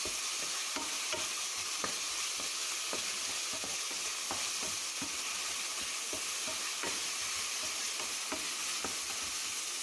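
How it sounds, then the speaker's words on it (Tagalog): Onions sautéing in a pan for a Filipino home-cooked meal, a dense continuous hiss of frying with small crackles and occasional stirring taps, close and steady, no one speaking. "Ihog naman natin ang ating sibuyas."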